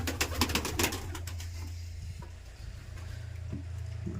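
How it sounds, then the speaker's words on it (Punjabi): Village pigeons coo softly nearby while grain is scattered for them, a few low rolling coos over a steady background hum, with no talking. "ਕਬੂਤਰ ਰਹਿ ਗਏ ਥੋੜੇ ਚਲੋ ਪੁੱਤ ਦਾਣੇ ਖਾ ਲਓ"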